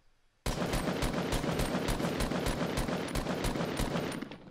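Rapid automatic gunfire in the Fortnite Battle Royale game erupts after a quiet start, a dense, loud stream of shots continuing for about four seconds before easing slightly, with no talking.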